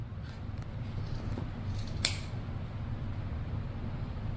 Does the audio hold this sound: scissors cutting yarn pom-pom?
yes